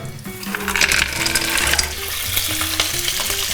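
Chili sizzles in olive oil in a pan for a seafood fregola with clams, a close, steady frying crackle with stirring and a low melodic tone running underneath.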